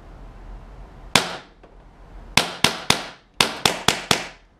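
A Tiberius T8.1 paintball gun running on CO2 fires eight loud, sharp pops up close: one lone shot, a pause, then a quick run of three and a tight cluster of four, each with a short ringing decay.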